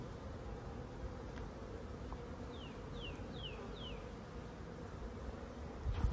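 Honey bees swarm an open hive frame filled with brood and eggs, making a dense, continuous low buzz nearby, with a few short rising chirps in the middle and no voices.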